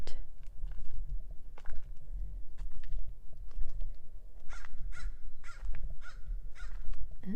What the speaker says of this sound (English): The bird is having a dialogue with me.